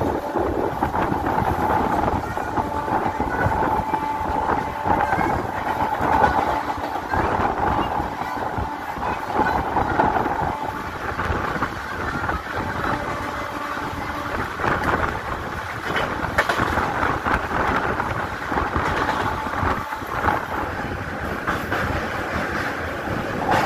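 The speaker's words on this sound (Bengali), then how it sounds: "ট্রেন আমাদের তমলুক স্টেশন থেকে ছেড়ে দিল" Santragachi–Digha summer special train running on after leaving Tamluk station: a steady, loud rumble and rattle of rolling carriages, continuous and close, with no pauses or talk.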